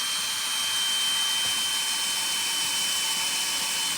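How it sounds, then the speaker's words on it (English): A power drill bores straight down through the center of a TorqueFlite transmission part, giving a steady, loud, continuous whine and grind that holds for the whole stretch with no pauses. "Take your drill and go right down through the center of that."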